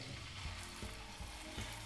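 Monkfish pieces frying in hot oil in a pan on a stovetop at medium heat, a steady close crackling sizzle with faint regular clicks, no voices.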